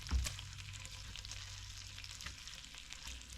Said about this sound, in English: Waiting for the bacon to finish rendering. Get a good crisp and char.